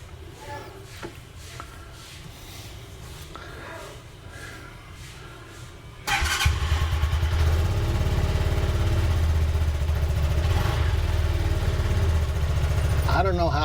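A Rusi Caruza car engine idles in neutral with a low, steady hum that grows noticeably fuller partway through. A voice can be heard talking faintly over it.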